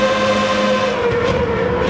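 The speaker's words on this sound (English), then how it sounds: "Sounds like a 90s F1 car." Spec III race car in Gran Turismo 7 driving at sustained high revs, a loud, steady, high-pitched engine whine with a shifting tone, heard alone without talk.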